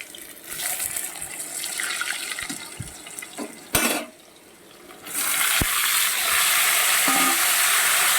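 Taro stems and potato frying together in oil give a steady hissing sizzle, with a few clinks of stirring and a brief louder burst before the frying noise settles into a continuous bright hiss.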